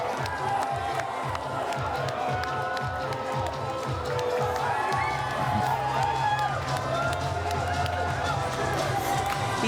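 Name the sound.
crowd cheering at Justin Trudeau's victory speech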